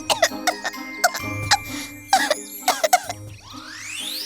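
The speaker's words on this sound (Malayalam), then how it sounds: "അവർ ചുമയ്ക്കുവാൻ തുടങ്ങി" Cartoon characters cough repeatedly from smoke, short sharp bursts in quick irregular clusters over a faint musical background, with a rising whoosh at the end.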